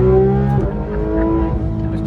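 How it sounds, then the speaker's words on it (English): A supercar engine screams at high rpm near 8,000, a loud, close, sustained tonal wail with shifting harmonics that dips slightly mid-way before holding steady. "Feels like you're going to smash the engine. What a sound."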